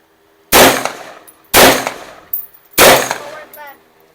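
Three sharp, loud gunshots from an AR rifle ring out about a second apart, each followed by a brief metallic ring and echoing decay.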